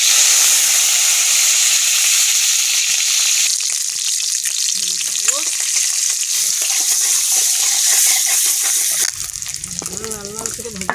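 Eggs frying in oil with broccoli make a loud, close, continuous hissing sizzle. It eases off near the end as a voice speaks over it.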